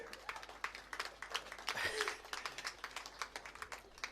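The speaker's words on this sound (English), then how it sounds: "please let's clap for" Audience clapping at a graduation ceremony, scattered claps of moderate strength building into a fuller round of applause.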